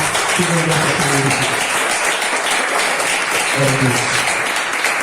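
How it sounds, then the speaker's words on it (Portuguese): A church congregation gives sustained applause, a continuous roar of clapping heard up close, with a voice speaking briefly over it near the start and again near the end. "Quem pode bater uma linda salva de palmas?"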